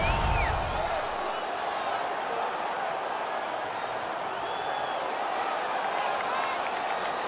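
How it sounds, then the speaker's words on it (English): Home crowd at an NHL 17 hockey game on PS4 after a fight: a steady, fairly distant roar of cheering and applause that holds throughout, with faint whistles rising above it. "The home crowd is ecstatic. They're making all kinds of noise."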